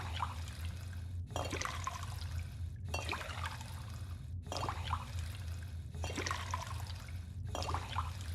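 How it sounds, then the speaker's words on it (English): A sink runs in Fallout 4, giving a steady rushing stream of water in repeated bursts about a second and a half long, each separated by a brief cut of silence, with no talking. "you like the sound of water being pulled?"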